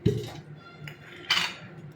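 A metal wok clanks down onto a stovetop, followed by a brief ringing clatter of cookware a moment later, close and fairly quiet.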